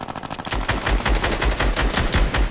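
Automatic gunfire sprays in a video game firefight, a rapid, loud, continuous stream of shots with a steady rhythm of punchy low thumps, lasting the whole moment without speech.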